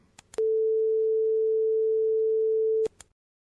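A steady 441 hertz pure sine tone sounds alone for about two and a half seconds, clean and unwavering, framed by brief clicks as it starts and stops.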